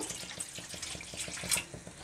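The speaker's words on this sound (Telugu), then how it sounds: "ఇలాగా కొంచెం వాటర్ పోస్తున్నాను" A short, soft trickle of water is poured into a chicken curry cooking with cashew paste, cream and yogurt, a faint splashing stream heard alone.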